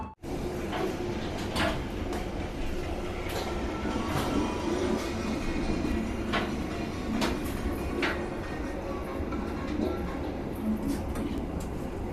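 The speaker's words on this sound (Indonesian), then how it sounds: "Kereta api Gajah Wong dengan nomor KA 105 sudah tiba di stasiun Jatibarang" The Gajah Wong passenger train arrives at Jatibarang station in Indonesia, rumbling steadily with rail clatter and occasional clanks, a continuous low hum of wheels and machinery, with no voices.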